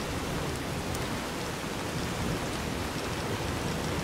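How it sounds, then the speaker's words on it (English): Steady rainfall in the game Fallout New Vegas, a dense even hiss of drops that holds at the same moderate level throughout with no talking. "Rain is not itself a separate thing."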